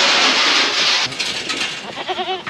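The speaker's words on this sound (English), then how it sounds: "I'm just gonna feed the goats out the other end so that I can shut them out there" Goats bleat on a livestock farm that also keeps sheep and cattle. Loud, close rustling and shuffling noise gives way to a couple of clear, wavering bleats near the end.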